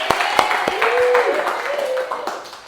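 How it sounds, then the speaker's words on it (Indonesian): A school class claps hands together during a lesson, a few sharp, separated claps up front followed by looser clapping, with voices talking and calling out over it. "Tepuk tangan untuk kita semua."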